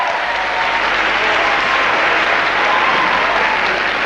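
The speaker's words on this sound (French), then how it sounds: "La salle de l'Empire applaudit avec vivacité à cette séance de Mardi Cinéma qui va commencer." A packed audience at the Empire theatre applauds vigorously and continuously before a televised Tuesday cinema screening, a dense, loud, even wash of clapping with no break.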